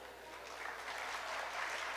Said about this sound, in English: I request you all to please give them a huge round of applause